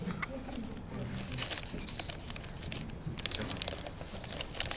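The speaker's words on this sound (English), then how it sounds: "I'm just folding this plastic bag underneath so that it'll take the contours a little better." A plastic bag is folded and crinkled underneath while shaping a plaster mask, giving soft, close rustling and crackling throughout at low volume.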